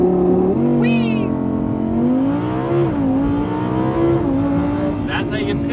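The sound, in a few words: Audi R8 V10 Performance Spyder accelerating hard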